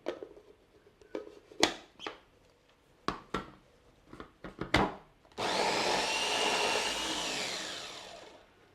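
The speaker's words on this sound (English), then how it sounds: "I'll be adding in a little bit of oil so that it will be easier to blend." A few light knocks and taps sound first, then an electric blender whirs in a loud, steady roar, blending chilli paste with oil for sambal.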